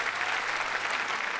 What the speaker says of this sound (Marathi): जोरदार टाळ्या अदितीजींसाठी.